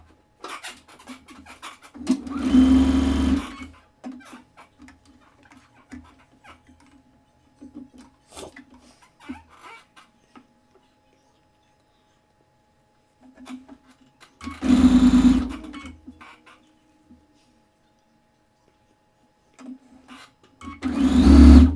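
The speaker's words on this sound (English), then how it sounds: "So let's get sewing." A sewing machine stitches in three short bursts of loud, buzzing whir separated by long near-silent pauses with small clicks and handling noises, close by.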